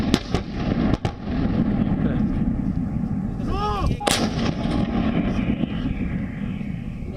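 Indian Army 130 mm medium artillery guns boom repeatedly outdoors in the Thar desert, deep rumbling blasts rolling over each other with a sharp crack partway through, loud and continuous.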